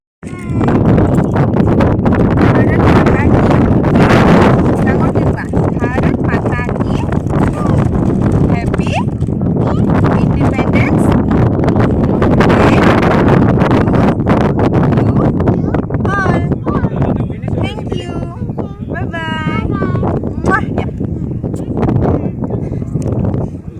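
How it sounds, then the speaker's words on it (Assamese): Strong wind buffets the microphone in a loud, steady roar beside a river, with voices talking underneath. "ইমান ধুনীয়া বতাহ দি আছে"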